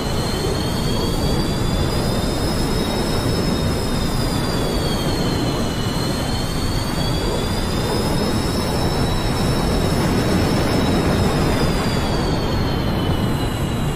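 F-14B Tomcat jet in the DCS flight simulator roars steadily on afterburner, a loud, continuous broadband rumble with a whining tone that wavers slightly in pitch over fourteen seconds.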